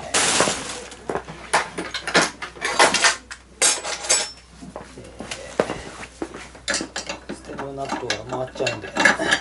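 Steering stem being tightened on a Kymco Tersely S125 scooter in a motorbike shop, with close, loud ratcheting and clanking metal tool sounds in uneven bursts, plus a brief grinding rattle near the end.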